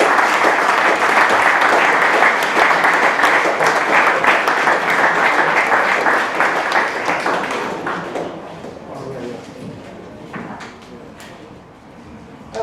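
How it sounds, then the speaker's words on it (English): An audience claps for a group at a fundraiser, with dense, loud applause lasting about eight seconds before thinning into scattered claps and fading out. "would you like to give them a clap?"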